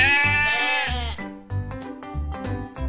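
A Garut sheep bleats in a long, wavering, close cry, followed by several shorter, throaty bleats in quick succession.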